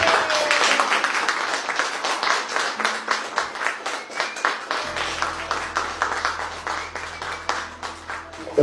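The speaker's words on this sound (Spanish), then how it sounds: "Un aplauso." Audience applause at a motivational coaching talk, a loud sustained wash of many hands clapping with a steady rhythm that continues throughout.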